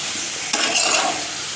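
Chopped vegetables with green chilies are stirred in a hot pan, giving a close, steady sizzle with a brief scraping swell in the middle, with no voices.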